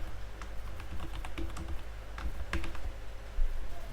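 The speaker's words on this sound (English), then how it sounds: "Here let's type something." Fast clicking keystrokes on a computer keyboard, typed in an irregular rhythm over a steady low hum, close and fairly soft, with no voices.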